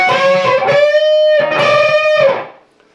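Electric guitar with distortion playing a lick: two struck unison bends high on the neck, each note rising and ringing with sustain before fading out near the end.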